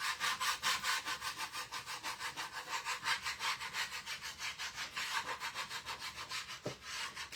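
Wax is scraped off a wooden craft star in steady, rhythmic back-and-forth strokes, close and loud with no talking.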